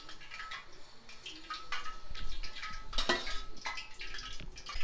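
Ground corn batter with chopped curry leaves is mixed by hand in a metal bowl, giving soft wet squelching with clinks and scrapes against the bowl, close and fairly quiet, with no talking.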